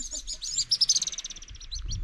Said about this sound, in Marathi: वाव, पक्ष्यांचा थवा इथून गेला.